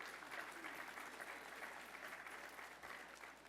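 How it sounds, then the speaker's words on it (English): Audience applause at a Colliers Houston commercial real estate trends event: steady, fairly quiet clapping that holds evenly for the whole stretch without a break. "Can we give a warm round of applause to all of these people,"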